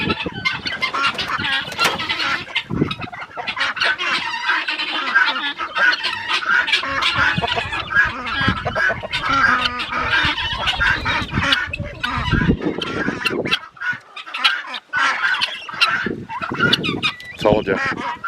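Ducks and chickens in a backyard flock near a log home build, quacking and clucking in a busy, continuous chorus close by, with a few louder bursts and no talking.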